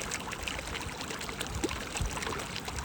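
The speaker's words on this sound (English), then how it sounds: "This little rock here is creating this noise of a river." A river runs over a small rock at the Stinchar Estuary in Scotland, giving a soft, continuous trickling wash with a few faint splashes and the sea nearby.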